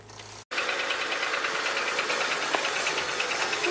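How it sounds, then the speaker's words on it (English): The exhaust of a Honda Accord V6 idles after misfire repairs, a steady close rumble with a faint rhythmic knock, following a brief cut near the start. "We'll listen to the exhaust pipe here."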